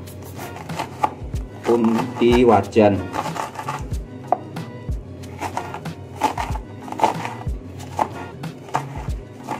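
A knife chops ingredients for Uyghur laghman on a board, giving a series of sharp, irregular close-up strikes while someone talks over them.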